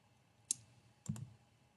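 Two quiet computer mouse clicks, one single and then a quick double, made while editing slide animations in presentation software, close and isolated against a faint background hum.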